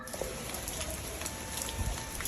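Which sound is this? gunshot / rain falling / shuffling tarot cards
rain falling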